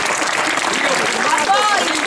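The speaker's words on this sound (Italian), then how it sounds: "Ci facciamo un applauso tutti quanti." A group breaks into applause during an event in Andrano, a dense, continuous patter of many hands clapping that holds steady and loud throughout, with voices and a few whistles coming through it.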